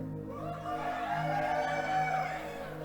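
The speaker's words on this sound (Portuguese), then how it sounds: "É galo, gente, é galo." A rooster crowing in one long, drawn-out call, fairly faint and somewhat distant over a background hum.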